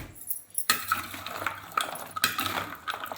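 Maida flour and jaggery mixture being stirred by hand in a bowl at home while making sweet gavvalu, a close, wet clinking and scraping that keeps going steadily and quietly with no talking.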